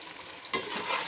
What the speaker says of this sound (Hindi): ये सारा पेस्ट डाल देंगे और फिर इसको खूब अच्छी तरह मिक्स करेंगे।